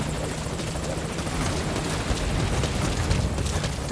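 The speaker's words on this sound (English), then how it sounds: "Now the helicopter can go" Helicopter in the video game Metal Gear Solid 5 Ground Zeros, a loud, steady rotor roar with dense thudding wash filling the whole stretch, with no talking.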